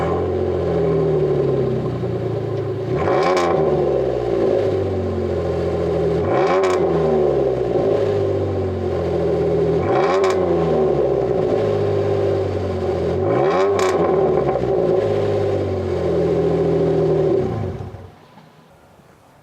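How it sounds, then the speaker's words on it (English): Jeep Wrangler JK 3.8L V6 with a Flowmaster Outlaw axle-back exhaust revved four times from idle, each rise and fall loud and deep over a rumbling idle before the engine shuts off. "Wow, what a difference this Outlaw axle-back system made in sound."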